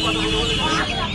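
At the Uluberia hen market, crowded poultry including Kadaknath, Black Australorp, quail and Chinese hens make a loud, dense burst of clucking and squawking, heard close and packed together over a brief moment with a busy market din behind.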